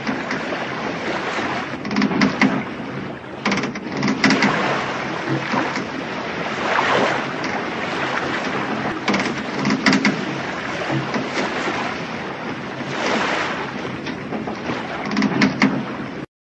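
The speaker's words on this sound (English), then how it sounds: "Sailing ship." A sailing ship from an old version of the game Landscape gives a continuous rushing wash of water and wind, with soft periodic creaks and knocks rising and falling throughout.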